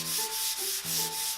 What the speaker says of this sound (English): give your piece an all-over sand down with the 150 grit sanding block